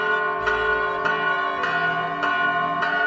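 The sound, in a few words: church bells ringing at midday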